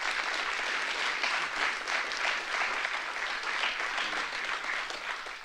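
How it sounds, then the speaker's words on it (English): Audience applause at a community forum on fentanyl: steady, dense clapping from a sizable crowd in a hall, sustained and fairly loud throughout with no talking over it. "So please give them a round of applause."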